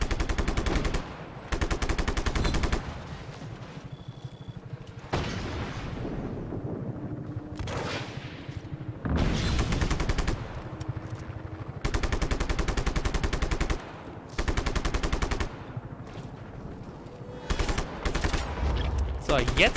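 Gunfire in the video game Just Cause 3 comes in repeated loud bursts of rapid automatic shots separated by short pauses, with explosive rumble and game ambience filling the gaps.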